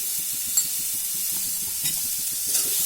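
A teaspoon of oil goes into a pan of cooking tomatoes for tomato pepper rice, setting off a steady, close hissing sizzle with a few faint clinks and stirring sounds.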